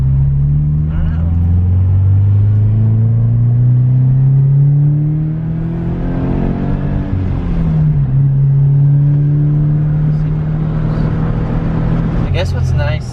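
A slow, low-powered manual car drives along at a gentle pace, its engine droning steadily with slight rises and falls in pitch as it gets on and off the throttle, loud and close.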